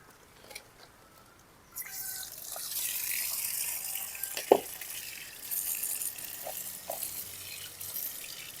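Water splashes and gushes as it is poured out of a cooking pot of shrimp, with a few drips and clinks, running continuously for several seconds at moderate volume.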